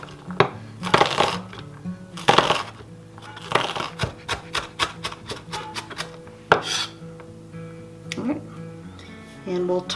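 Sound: knife finely dicing onion

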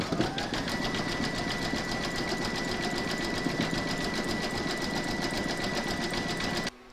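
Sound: embroidery machine stitching zigzag round

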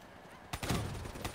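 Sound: gunfire from video game Call of Duty Black Ops 3

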